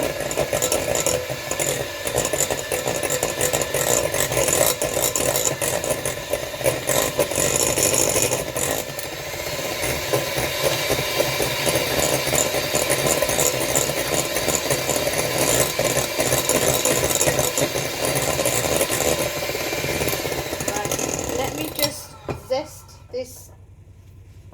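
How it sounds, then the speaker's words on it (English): Steady whisking in a bowl, likely with an electric whisk, runs as a continuous whirring rattle for over twenty seconds at even loudness before cutting out near the end. "So bear with me while we whisk."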